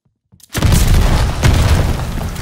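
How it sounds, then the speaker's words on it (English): A bomb goes off in the Call of Duty Vanguard video game after a few faint clicks, a sudden loud, close blast that swells into a sustained roaring rumble. "Activating the bomb."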